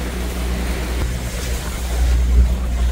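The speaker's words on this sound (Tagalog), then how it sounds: "Maalon, super na maalon, no?" Rough, choppy sea waves in Sarangani Bay in the Philippines, heard from a boat during storm weather, give a loud, continuous wash with low rumble and wind buffeting the microphone.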